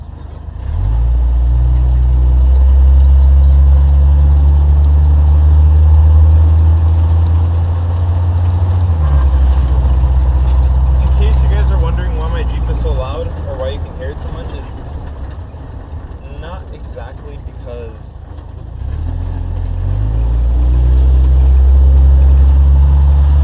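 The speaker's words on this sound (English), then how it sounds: "the reason why you can hear my car so much" A car engine with a rusted-through muffler drones loudly and steadily with a rough, rumbling exhaust, swelling and easing throughout while a person talks over it.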